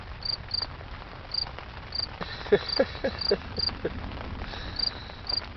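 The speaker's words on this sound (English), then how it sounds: "I have a cricket somewhere inside my tent fly now." A cricket chirps inside a tent fly during a storm on a Missouri River canoe trip at Lake Oahe, giving short, steady, evenly spaced chirps close by over a low background rumble.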